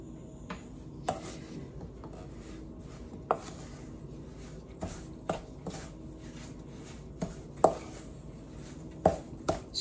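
Apple cobbler ingredients are worked together by hand for a crockpot dessert, producing soft, irregular squishing and scraping with occasional sharp taps against a bowl, quiet and close.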